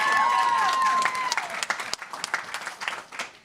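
Loud applause from an audience at a regular board meeting starts full and dense, then thins out over a few seconds into scattered, uneven claps.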